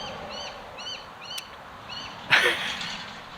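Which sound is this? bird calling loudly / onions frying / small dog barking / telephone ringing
bird calling loudly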